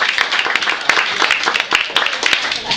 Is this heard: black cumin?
no